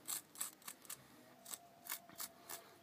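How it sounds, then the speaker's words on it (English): Small scissors snip the roots of a small bonsai tree in about eight quick, close cuts at an uneven rhythm. Each cut gives a crisp, faint click over near silence. "cutting off some of these roots"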